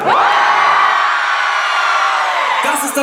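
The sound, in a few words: live concert crowd screaming as loud as they can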